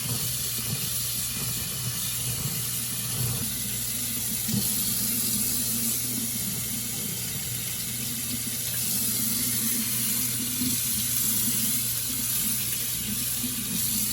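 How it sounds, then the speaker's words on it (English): A kitchen tap runs steadily, rinsing water over frozen popsicle molds to loosen homemade organic popsicles, giving a constant close hiss and splash with faint low hum for the full stretch. "I'm gonna turn the water on and get them out. Put a little bit of water on them like this."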